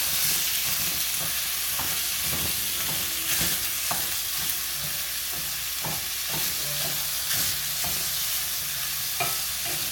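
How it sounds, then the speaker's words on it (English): Ground meat sizzles steadily in a frying pan while a mix-and-chop utensil breaks it up, giving repeated scraping and tapping strokes over the constant hiss of frying, close and fairly loud with no talking. "Now, I'm gonna use my mix and chop and start to break it up."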